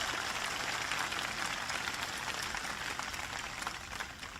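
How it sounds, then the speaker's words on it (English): An audience applauds at an American political speech, a steady, dense clapping wash that stays fairly even and slowly fades slightly toward the end, with no voices over it. "please give Ed a big round of applause"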